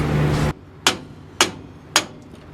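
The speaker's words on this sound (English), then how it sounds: "so we just need to hammer that one now" Three sharp metallic hammer blows on a steering spindle of a 1966 C10 truck, evenly spaced and loud, following a brief burst of grinding noise that cuts off abruptly.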